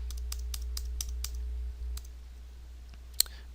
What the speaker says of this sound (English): You just hit the left alt on your keyboard